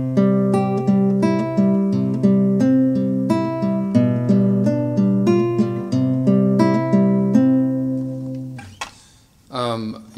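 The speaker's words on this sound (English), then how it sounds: "If I were to play this with all the same dynamic, it would sound like this." Classical guitar piece with melody, harmony and bass voices all played at one even dynamic, plucked notes ringing steadily for several seconds before a short break and a noisy scrape at the end.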